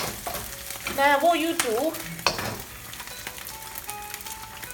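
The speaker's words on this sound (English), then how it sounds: "So now I'll mix them, so let the salt goes everywhere." Salted fried rice made from sticky sushi rice is tossed and stirred in a pan with light scraping and a faint sizzle, close by, as a voice briefly talks over the start.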